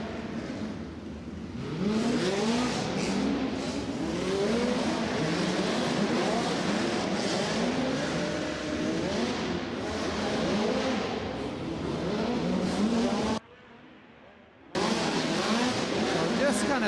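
A USAC midget race car engine is fired up and revved at a dirt track during the Shamrock Classic at Du Quoin, giving a loud, rising and falling roar with a brief drop-out near the end.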